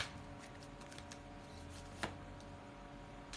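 A tarot card is drawn from the deck in a quiet room, making one faint, sharp flick about midway through the clip against a soft background hiss.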